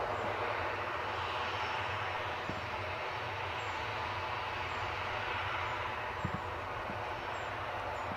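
Jet airliner engines at Newcastle airport as a plane taxis, a steady distant roar filling the scene with a few faint knocks, no voices.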